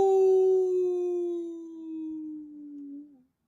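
A voice imitates a coyote's long, wavering howl, a single sustained note that slowly falls in pitch over about three seconds, loud and close, with a short upward flick at the end.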